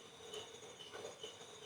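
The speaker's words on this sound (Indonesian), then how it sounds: "terdengar jelas suara jangkrik dikarenakan rumah saya ini masih pelosok dan di daerah pegunungan" Crickets chirp at night around a house in a remote mountain village, a faint continuous high trilling with soft pulses and no other sounds.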